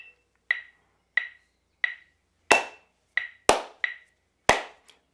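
Isolated drum hits are played in a pushed-feel rhythm, about nine sharp strikes mixing higher rim-like taps with deeper full-bodied hits, each decaying quickly into silence, close and alone.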